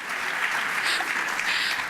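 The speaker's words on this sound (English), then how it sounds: "A round of applause." Applause from the audience at a school district recognition event, a steady, moderately loud wash of clapping that lasts a couple of seconds with no voices over it.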